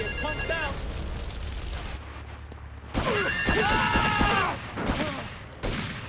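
Booming blasts and crackling gunfire fill a Grand Theft Auto III Definitive Edition scene, loud bursts arriving in clusters, with brief talk in between.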